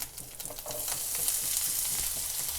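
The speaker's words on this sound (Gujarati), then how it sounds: "બટેકાને મિક્સ કરી લઈશું" Diced potatoes stirred into hot oil tempering in a pan while making sabudana khichdi, a steady close sizzle and fry with light scraping stir strokes, no talking.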